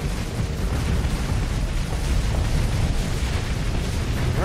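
Weapons fire and explosions from the space combat game Starsector form a loud, continuous roar of booming blasts and rumbling bursts that fill the whole stretch with no talking.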